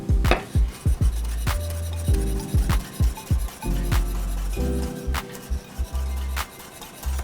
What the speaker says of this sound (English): I'm just gonna chop it up.